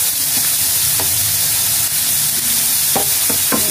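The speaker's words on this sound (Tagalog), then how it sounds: "May mantika na po. Napalit na po natin yung ating kawali. Lagyan na po natin yung sibuyas. At yung bawang po." Onion and garlic hit hot oil in a pan, a loud, dense, constant sizzle with a few sharp stirring clicks near the end.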